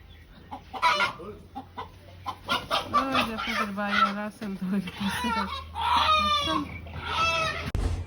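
Chickens cluck and a rooster crows repeatedly near a home, with a person talking over and between the calls.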